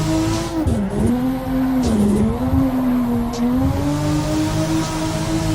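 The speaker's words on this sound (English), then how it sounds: "hit redline anytime that I want in second gear, but it's still easy to modulate the throttle" A racing car from the DeathWish Garage Pack 2022 revs hard in second gear, its engine note climbing and dipping under throttle toward redline, with faint tire squeal beneath the loud, continuous drone.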